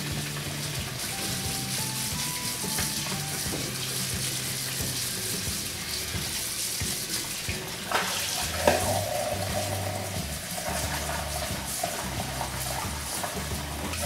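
Tie-dyed fabric is rubbed and rinsed under a steadily running tap, with water gushing close by and brief splashes and shifts as the cloth is handled. No one speaks.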